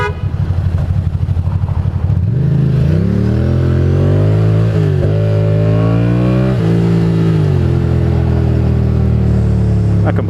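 A motorcycle revs and accelerates hard through city traffic on a ride up to Harlem, its engine note climbing loud and close in rising sweeps that run continuously for about ten seconds, with brief drops between gear changes.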